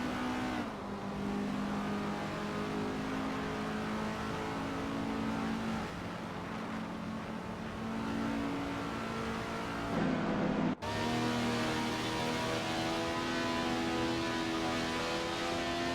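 Race cars roar around a track in a racing video game, a dense, continuous engine drone with shifting pitch and a sharp cut midway, with no talking.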